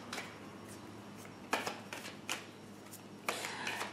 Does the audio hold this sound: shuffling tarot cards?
yes